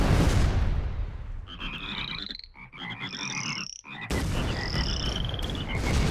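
Frogs croak in busy, chirping bursts from a weapon in the ShellShock Live tank artillery game, a loud steady roar underneath and a short lull midway before the croaking chorus resumes.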